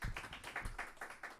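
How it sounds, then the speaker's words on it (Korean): A church congregation at a midweek worship service claps in thanks, a brief, quiet run of evenly spaced claps with no talk over it. "우리 철이 형제한테, 최철 형제한테 늘 예배 준비하시느라 너무 수고한다고 감사의 박수 한번 전하겠습니다"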